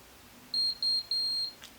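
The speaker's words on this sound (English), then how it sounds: "I don't really remember how these straighteners beep and when you know they're done" A ghd Rose Gold hair straightener beeps when it is ready. Three short, clear, high electronic beeps come in quick succession, close and fairly quiet, in an otherwise quiet room.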